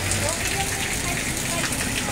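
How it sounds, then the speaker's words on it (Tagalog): Steady rain pours during a stormy Saturday, a dense broadband hiss of drops spread across the whole clip, close and continuous with no pauses, and nobody talks over it. "Maulan na Sabado."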